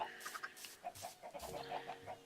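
Chickens clucking in a farming video game, a run of short repeated clucks and soft bawks, close and moderately loud with no talking over them.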